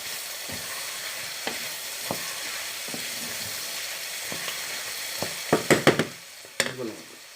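Chicken pieces sear in a pan with a steady, close sizzle, broken by occasional spatula scrapes and knocks that grow busier and louder toward the end.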